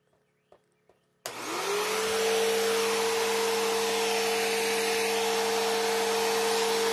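A Bissell Rewind Premier Pet bagless vacuum cleaner switches on after a few faint clicks and runs loud and steady with a sustained motor whine.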